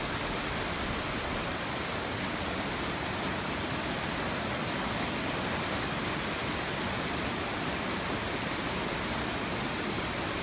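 Constant dense rushing of a fast-moving shallow stream at a crossing near Donut Falls, a broad unbroken roar with no pauses, close and loud.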